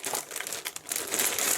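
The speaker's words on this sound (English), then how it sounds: "And then plastic bags. Each frame has its own plastic bag in this kit." Thin plastic bags holding the sprue frames of a 1/48 scale Messerschmitt Me163 Komet model kit crinkle and rustle in close, irregular bursts, loud and crisp with no talking.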